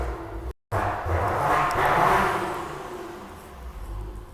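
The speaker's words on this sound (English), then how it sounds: "we can try to accelerate a little bit by pressing the button" A 2016 Maserati Quattroporte accelerates from inside the cabin, its engine and exhaust swelling to a loud rising roar after a brief dropout, then settling into a steady drone.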